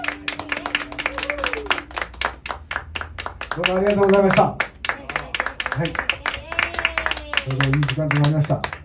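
A live concert audience claps in a short, dense burst of applause between stretches of talk from the stage, with music playing underneath.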